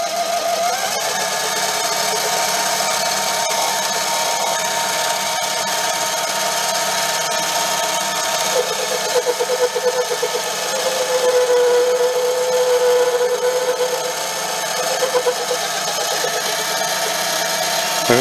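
A Manson Duo lathe runs steadily in back gear, a continuous mechanical hum with a faint whine rising in the middle, near and alone with no talk.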